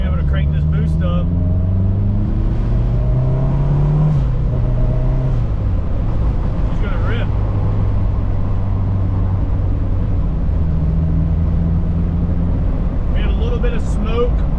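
A boosted race car engine revs loudly close by during a pull, its droning, wavering tone rising and falling steadily, with brief high-pitched hiss or whine bursts near the start, middle and end.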